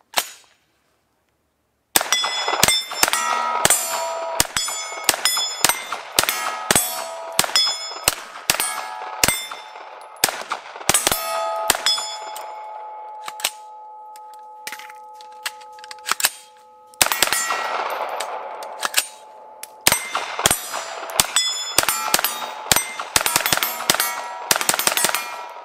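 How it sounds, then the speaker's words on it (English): A PSA 9mm AR-9 rifle with a 10.5 inch upper fires at steel targets outdoors, giving rapid sharp shots with bright ringing clangs from the steel, a lull with lingering ring midway, then more quick strings of fire. "Let's do some shooting."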